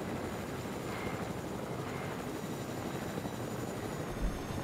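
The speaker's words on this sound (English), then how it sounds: "Do I hear another helicopter?" A helicopter flying in Fortnite gives a steady, distant rotor drone and engine hum that holds at an even level throughout, with no talk over it.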